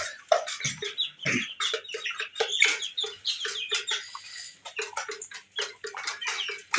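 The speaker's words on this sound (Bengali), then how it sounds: "আর এগুলো হচ্ছে আপনার কাদাকনাথ।" A group of Kadaknath chickens clucks and chatters nearby, their short overlapping calls coming in quick irregular bursts without pause.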